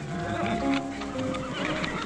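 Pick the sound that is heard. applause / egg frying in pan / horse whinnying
horse whinnying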